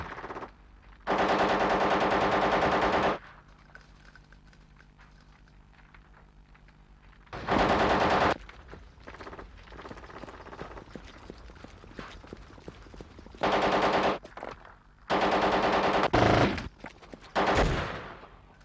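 Bursts of automatic gunfire in a military shooter on the original Xbox, several loud sustained volleys of rapid shots separated by quieter stretches of scattered distant fire.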